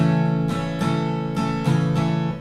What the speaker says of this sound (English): The second strumming pattern is the one we're going to be using in the chorus